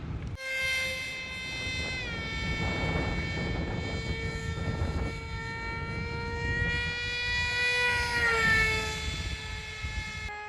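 An electric RC model airplane on a 2S LiPo battery flies circuits overhead. Its motor gives a sustained, tonal whine that swells and shifts in pitch as it passes, heard alone at moderate distance.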